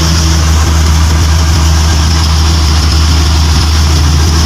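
A fuel delivery truck's engine idles steadily and loudly throughout, a constant low rumble with no noticeable change in pitch and no voices.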